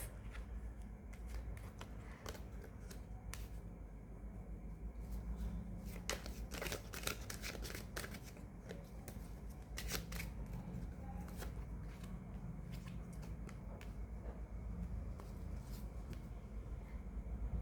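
Tarot cards are shuffled quietly in a series of soft, irregular riffling and crinkling bursts over a low background hum, with no talking.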